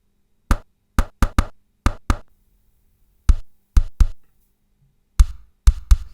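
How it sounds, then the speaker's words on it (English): Kick drum sample built from the tapping of a makeup palette: short, punchy low thuds in a loose beat pattern, about a dozen hits with quiet gaps between them, heard alone. "I started out with this sound for the kick."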